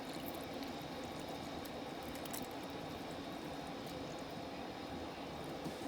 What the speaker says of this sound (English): I'm just going to pour some into the stock